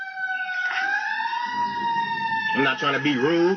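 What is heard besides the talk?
siren sound effect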